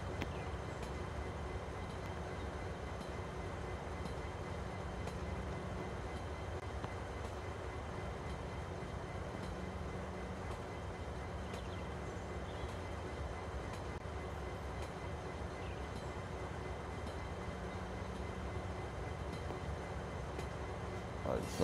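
A freight train rolls slowly through a rail yard in the Train Simulator Pro USA game, a steady low rumble and rail noise held at an even level for the whole stretch, with a faint voice now and then.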